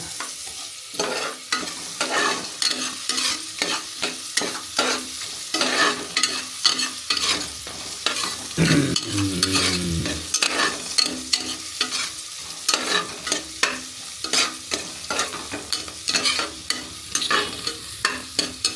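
Masala for tomato bath is stirred in a pan, with a steady run of scraping, clattering strokes over a soft sizzle, close and fairly loud, and no voices.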